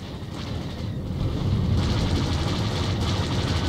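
A starfighter taking fire in the space combat of Star Wars The Old Republic: a heavy, continuous roar of explosions and engine rumble that swells louder after the first second and stays dense.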